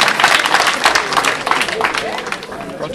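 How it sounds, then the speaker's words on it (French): Pupils are applauded at a school award ceremony for excellence at C.M N'Guyakro, a close, lively burst of many hands clapping with crowd murmur mixed in, steady throughout the short span. "Applaudissements, s'il vous plaît,"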